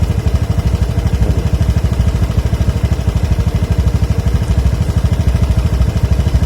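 A motorcycle engine idles close by with a fast, even, pulsing putter that holds steady and fairly loud throughout, with no voices over it.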